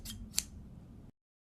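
A single crisp snip of scissors rings out sharply against a faint low hum, brief and close, then the sound cuts to silence.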